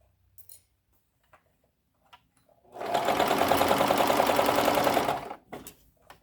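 Sewing machine stitching a fitted tube dress, a quiet start with a few light clicks, then a loud, rapid, even run of needle strokes for about two and a half seconds before stopping abruptly.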